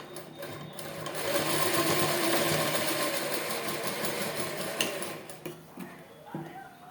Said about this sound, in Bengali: এইভাবে আমি এটা সেলাই করে নেব